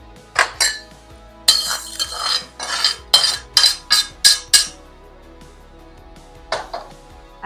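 Moong dal being poured and spread across a steel plate with a spoon, giving a run of close, bright metallic scrapes and clinks in quick bursts, then a pause and a couple of softer taps at the end.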